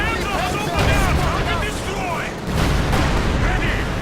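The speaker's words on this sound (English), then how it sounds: "T-35 here, just blasting away" Tank cannon fire in the World War II strategy game Company of Heroes 2, with a T-35 tank blasting away amid loud, dense booms and battle noise while a commentator talks over it.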